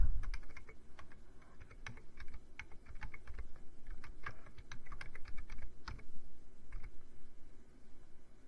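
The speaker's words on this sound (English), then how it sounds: "Wow, that is bad typing right there." Someone types on a computer keyboard in quick, uneven bursts of clicking keystrokes with brief pauses, heard close up and fairly quiet.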